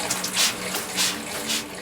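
Water runs through a cabin's plumbing system by a lake after the spring thaw, a steady close rush of flow with a few brief surges, no voices.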